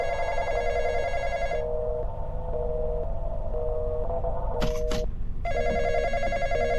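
A telephone rings in the Roblox game The Intruder, a steady repeating electronic ring running through most of the stretch, loud and close, with a brief break near the end before it resumes.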